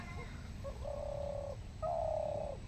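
Two soft, hollow coos from a dove, each drawn out, with a short pause between them over a faint background hum.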